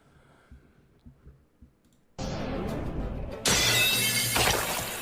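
A few soft taps, then a sudden loud crash as swords break in metallic and glassy shattering, followed by a second, even louder burst of shards.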